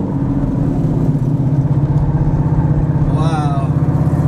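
An 800HP Dodge Viper ACR on sticky tires sweeps slowly through a turn, a steady loud engine drone filling the cabin throughout while voices talk over it.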